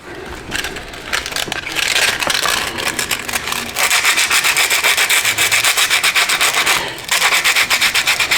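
Fine 320-grit sandpaper rubs salt residue off a small metal RC car body in quick, even strokes, close and loud, pausing briefly before the steady scratching resumes.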